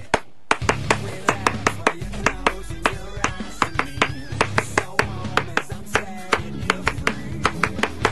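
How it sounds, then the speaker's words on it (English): A small group clapping in rhythm on a rowdy radio show, sharp close claps in a steady beat that runs the whole stretch, with some background shuffling and no clear talk. "Let's start a clap."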